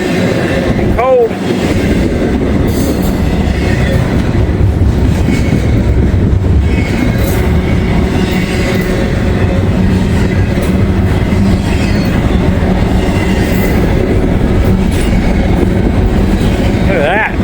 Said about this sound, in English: Dang, this is a long train.